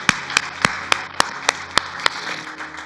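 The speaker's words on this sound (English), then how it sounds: "Can we just clap it up for Mother's Day coming up?" Rhythmic group clapping from a church congregation during a Sunday service, about eight sharp, evenly spaced claps over a low steady room tone with no talking.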